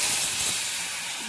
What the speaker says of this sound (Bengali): এই জলটা আমি এর মধ্যে দিয়ে দেবো।